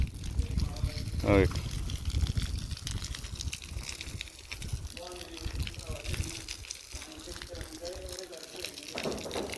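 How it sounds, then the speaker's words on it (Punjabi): Water sprayed and splashed onto flowers and plants during volunteer service at a gurdwara, a steady gushing wash that runs throughout under nearby voices and chatter. "ਆਪਾਂ ਲੱਗ ਪਏ ਛਿੜਕਣ ਪਾਣੀ ਤੇ ਫੁੱਲਾਂ ਬੂਟੀਆਂ ਨੂੰ"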